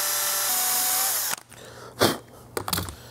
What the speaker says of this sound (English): So I need to drill a slightly larger hole.